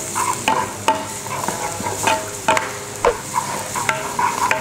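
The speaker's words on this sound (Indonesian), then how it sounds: "kita tumis dulu bawang putihnya." Garlic being sautéed in a pan for lime-leaf rice: a steady, close sizzle of frying with repeated scrapes and knocks of a stirring utensil against the pan.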